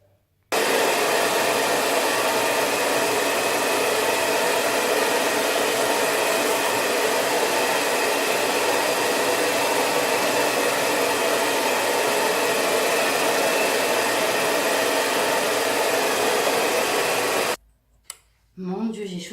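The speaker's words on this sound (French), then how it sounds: "Juste, je passe le sèche-cheveux sans le lisser et je vous montre ce que ça donne." Hair dryer blow-drying hair at home without straightening, a loud steady whooshing drone running continuously for about seventeen seconds before cutting off abruptly, followed by brief faint noises.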